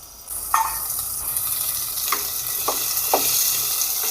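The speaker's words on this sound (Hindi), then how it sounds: "ये हमने बीफ को भून लिया" Beef fries in a pot with finely chopped onion and tomato, giving a constant bright sizzle, broken by a few soft scraping stirs and spatula taps, close by and without speech.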